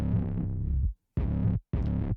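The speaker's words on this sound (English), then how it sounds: "and then I put an 808 on it." Deep, distorted 808 bass notes in a music production hit in three heavy sustained bursts separated by short silences, loud and booming with a throbbing low end.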